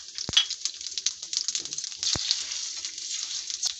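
Mustard seeds, urad dal, chana dal, cumin and crushed garlic fry in hot oil for a tempering, giving a continuous bright sizzle with crackling pops and a couple of sharp clicks, loud and close.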